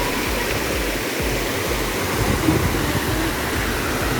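A strong river current rushes steadily near a cave, a dense continuous roar of churning water with no pauses and no voices.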